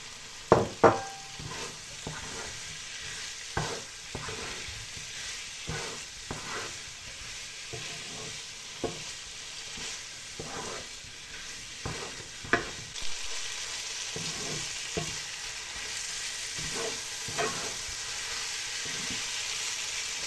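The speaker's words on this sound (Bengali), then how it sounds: "আমি আলু আর গাজরটা একটু কষে নিয়েছি, এবার দিয়ে দিচ্ছি পটল, দিয়ে দিচ্ছি।" Pointed gourd, potato and carrot fry in a pan, a soft steady sizzle broken by regular spatula knocks and scrapes against the pan throughout.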